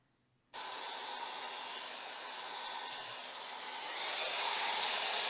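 A hair dryer switches on abruptly and runs with a loud, steady airy whoosh that grows slightly stronger toward the end, used while working with alcohol inks on mineral paper.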